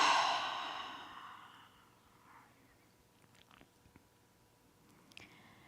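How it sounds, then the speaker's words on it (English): A loud exhale through the mouth during a yoga session, one strong breathy rush at the start that fades over about two seconds, followed by faint small rustles and clicks. "exhale loudly through the mouth. Again, inhale and exhale."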